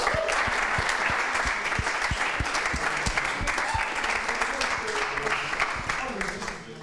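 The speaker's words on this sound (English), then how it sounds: "give him another applause" An audience at a DPDK technology meetup gives a sustained, full round of applause, loud and close, tapering off toward the end, with some voices faintly mixed in.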